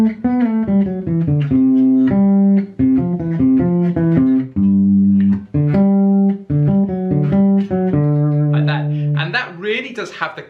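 Bass guitar plays a solo as a quick run of clear, singing melodic notes, loud and close, ending in a brief burst of noisy, scraping tone.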